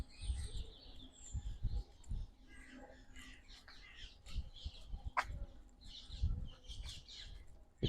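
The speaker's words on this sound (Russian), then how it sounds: "Также вы можете услышать пение соловьев, других птичек." Nightingales and other small birds sing along the Twickenham riverside in London, with bright, scattered chirps and trills coming from several directions over a soft outdoor background.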